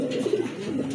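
Pigeons coo with a low, soft throaty murmur, a brief continuous burble close by.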